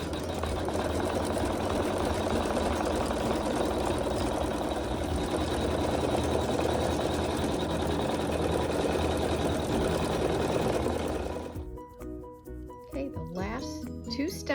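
An embroidery machine sews quilting stitches as a steady, continuous mechanical whir for about eleven seconds, then stops abruptly and leaves scattered clicks and light tones. There is no talk over it.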